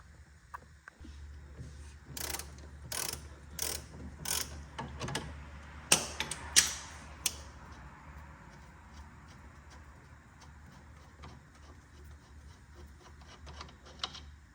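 A wrench works an 18mm bolt on the lower control arm of an Audi A6 Quattro, giving a quick series of sharp ratcheting clicks, then a few louder metallic taps, fading to quiet shop hum.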